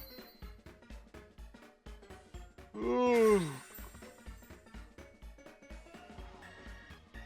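A single drawn-out human yawn, somewhat half-hearted, rising and falling over about a second, heard over steady rhythmic background music.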